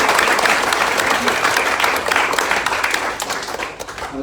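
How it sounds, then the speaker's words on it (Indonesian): A church congregation at a Sunday worship service claps together in a dense, continuous round of applause that holds steady and tapers slightly near the end, with faint voices mixed in. "Lagi tepukan kepada Tuhan kita Yesus Kristus."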